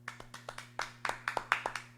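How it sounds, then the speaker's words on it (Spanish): A church congregation claps during a worship service, producing sharp, evenly spaced claps in a quick steady rhythm over a constant low electrical hum. "Vamos a dar un aplauso a Cristo por eso"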